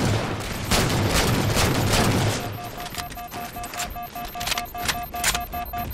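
Gunfire rattles in a Halo 4 2v2 match on the Haven map, a dense burst of rapid shots for about two seconds, then scattered sharper cracks with electronic game tones over the rest.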